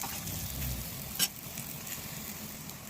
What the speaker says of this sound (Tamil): உப்பு அப்புறம் சில்லி பவுடர் போட்டு ஆயிலில் நல்லா போட்டு ஃப்ரை பண்ணிடுங்க.